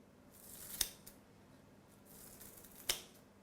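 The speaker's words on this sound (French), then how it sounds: "on va partir du bout avec nos ciseaux et on va couper comme ceci." Kitchen scissors make two crisp, close snips about two seconds apart, cutting into a salad bowl while a brandade de morue is being prepared. The kitchen is quiet in between.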